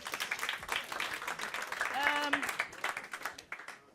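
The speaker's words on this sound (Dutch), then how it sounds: "Mag dan alsjeblieft een applaus voor mijn bank." Audience applause at a live hip-hop event, scattered clapping and cheering from a crowd mixed with voices and talk, with a brief tonal whoop rising in the middle.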